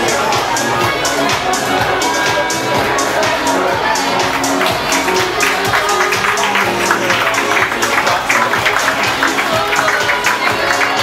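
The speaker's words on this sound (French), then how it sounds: "Que l'on peut applaudir très très fort également" A loud crowd at a fashion show applauding and cheering steadily, dense clapping mixed with shouts and babble throughout, close and continuous.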